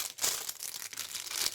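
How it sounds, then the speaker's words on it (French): Close, crisp crinkling of a plastic sheet, rustling in quick irregular bursts for over a second. "C'est un plastique qui fait beaucoup de bruit."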